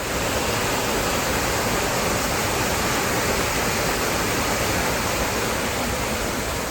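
Heavy rain pours down around a hut in rice fields, a dense, constant, loud hiss of broadband noise with no pauses and no voices.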